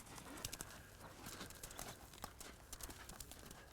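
Faint, rhythmic hoofbeats of a horse loping in an arena, soft thuds repeating in a steady three-beat cadence at a distance.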